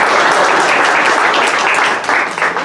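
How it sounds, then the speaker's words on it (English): A crowd at a Veterans Day parade in Delano claps for the parade organisers, a steady, dense burst of applause that holds loud throughout and eases slightly at the end. "let's give them a big round of applause."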